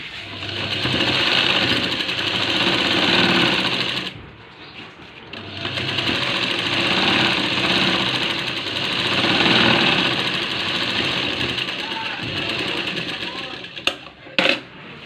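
Sewing machine stitching a straight fitting seam on a blouse, a loud close whirring drone in long runs broken by short pauses, with a few sharp clicks near the end.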